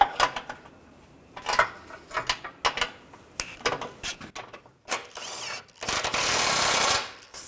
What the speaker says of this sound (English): Put the wrench on top. Snug that down.